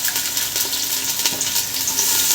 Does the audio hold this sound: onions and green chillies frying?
yes